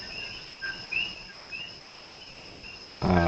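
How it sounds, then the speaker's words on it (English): Coqui frogs call from somewhere behind a quiet indoor spot, giving a few brief, faint rising chirps over a steady high insect-like hum, before a louder rustling noise cuts in at the end. "I'm noticing coqui frogs in my background."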